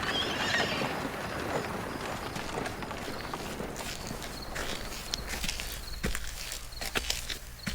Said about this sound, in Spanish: El caballo, como si hubiese entendido las palabras de su viejo amo, emprende un presuroso trote.